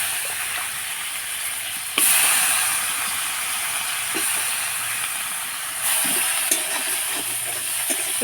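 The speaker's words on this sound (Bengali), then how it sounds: "মাছের পেটি দিয়ে বেগুন ভাজা করব, শুকনো ভাজা।" Eggplant slices fry dry in hot oil with fish belly pieces, giving a loud, continuous close sizzle that surges when more goes in, with occasional light stirring clicks and no talk.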